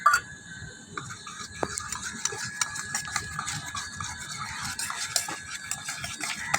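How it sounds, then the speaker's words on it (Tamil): A spoon scrapes and clinks steadily around a container while a mixture with laundry detergent powder is stirred, the rhythmic scraping close and fairly quiet. "நீங்கள் நல்லா கலந்துக்கிட்டே இருக்கணும் விட்டிங்கன்னா வந்து செட் ஆகாது"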